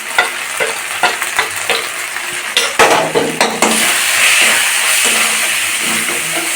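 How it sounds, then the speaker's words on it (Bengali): Chicken skin curry with chilli and turmeric powder sizzles and fries in a pan, with repeated scraping stirs at first and then a steady close hiss of frying, with no voices. "ভালো করে কষে নিতে হবে।"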